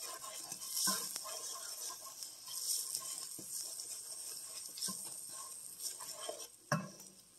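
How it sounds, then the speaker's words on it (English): Onions frying in a pan with garlic salt for a ramen dish, a quiet steady sizzle with occasional stirring scrapes and a few soft clinks, no talking. "Onions are cooking well."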